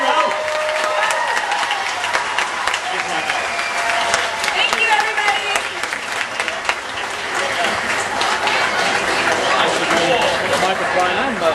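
A studio or convention audience applauds loudly and steadily for actors Alaina Huffman, Sam Huntington and Brandon Routh at a Q&A session, a dense wash of many clapping hands with some cheering, continuous at close range throughout.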